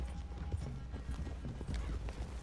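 Horses walking with steady clip-clop hooves close by, a continuous busy rhythm over low rumble, with a brief tonal whine early on and faint murmur in the background.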